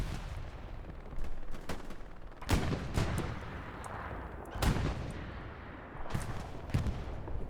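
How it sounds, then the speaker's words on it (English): Tank and small-arms gunfire in the Hell Let Loose World War II shooter on Utah Beach, with a Sherman and a Panzer IV fighting: repeated loud booming shots and bursts over a constant rumbling battle ambience. "Tanks fighting."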